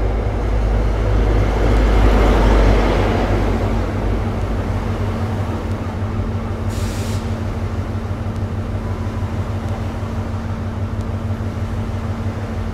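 A Class 43 HST, power car 43378 leading, at Exeter St David's station; a steady low diesel rumble with broadband rolling noise, loudest early on and then holding level, with no talk.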